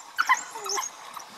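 Hyenas attacking an animal in the middle of a river give high, thin whimpers and sharp yips, several brief calls close together over about a second, fairly close and loud, with no talk.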